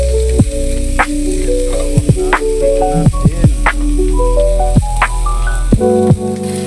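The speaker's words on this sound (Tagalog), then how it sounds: "So, mag-prito na tayo ng sibuyas bawang guys." Steady sizzling of onions and garlic frying in a pan, with occasional scrapes and taps of a utensil stirring, close and continuous throughout.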